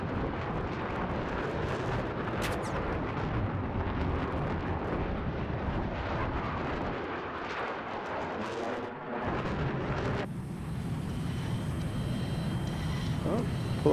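Artillery shells and JDAM bomb explosions in a 12v12 military video game battle, a continuous roar of distant blasts and rumbling impacts that stays loud throughout, with a voice talking over it.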